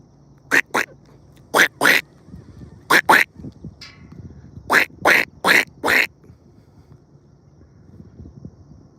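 A person imitates a duck's quack by voice beside a river on a Saturday morning dog walk, giving several loud, close calls in quick pairs and triplets with short breaks between them.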